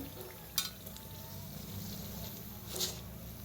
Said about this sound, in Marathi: दोन्ही साईडने छान असं तळून घेऊया.